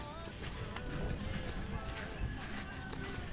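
Horse hooves clip-clop on a trip to Palawan, a fairly quiet, rhythmic patter of steps heard under ongoing conversation and background noise.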